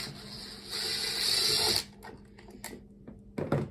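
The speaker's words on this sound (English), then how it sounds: "Oh, this is my new drill." A Makita 40V XGT cordless drill whirs steadily for nearly two seconds, then stops, followed by a few clicks and short bursts.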